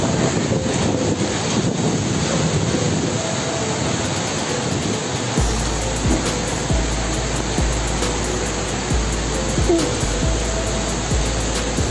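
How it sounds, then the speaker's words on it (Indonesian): Steady loud roar of heavy rain and gusting wind during a whirlwind in Sidoarjo, East Java, buffeting the microphone, continuous throughout with no speech. "diguyur hujan deras dan angin kencang."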